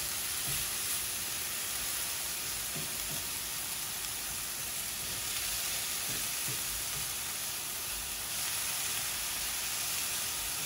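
Food sizzles in olive oil in a pan for a Philly cheesesteak omelette, a loud, continuous hiss up close, broken by a few soft knocks of stirring.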